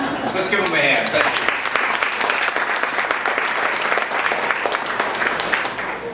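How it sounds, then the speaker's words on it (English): An audience at a city council candidates forum applauds the panel, sustained dense clapping at steady volume with some voices murmuring underneath. "Let's give them a hand."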